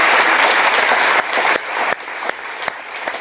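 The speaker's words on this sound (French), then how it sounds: "Let's all give an applause to the Lord." A crowd at a spiritual retreat applauds with dense, loud clapping that thins out after about a second, leaving scattered claps fading toward the end.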